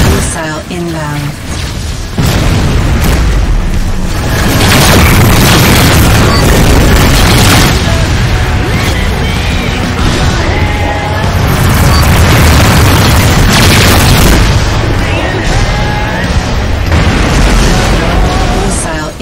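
Missile explosion in a video game: loud, sustained booming rumble with rolling blasts that swell and hold for many seconds, dense and close, with game voices speaking over the din.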